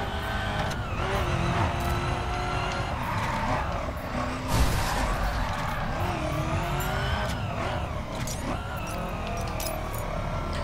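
A Lamborghini Aventador engine and tires in the video game The Crew, a loud sustained high-speed engine roar with rising and falling revs and gear shifts, no talking.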